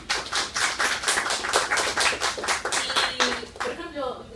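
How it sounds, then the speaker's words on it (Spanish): An audience at a philosophy and architecture talk breaks into applause for Diego: a few seconds of brisk, dense hand clapping from a crowd, fairly loud and close, then thinning out and fading at the end. "agradecemos todos con un aplauso a Diego"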